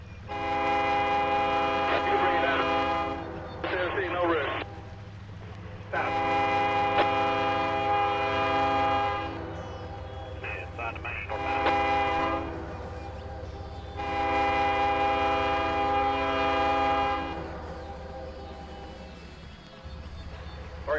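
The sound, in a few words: train horn echoing, Trainz video game coal train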